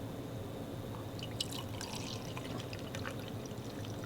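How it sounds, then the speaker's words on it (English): Starbucks coffee pours into an Ember smart mug with a soft, continuous liquid splash and light trickling that rises midway and then tapers, heard up close against a quiet room background. "So I'm gonna go ahead and pour this in here."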